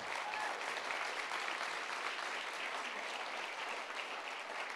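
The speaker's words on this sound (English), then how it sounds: "Let's give all of our iEx speakers another big round of applause." A conference audience at the iEx event gives the speakers a sustained round of applause, a steady, even wash of many hands clapping at moderate level without a break.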